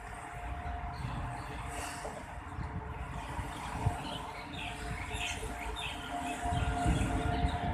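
An electric locomotive hauling a long container train rumbles steadily past at moderate distance, a continuous low rolling noise with faint squeaks and a steady hum, swelling slightly near the end.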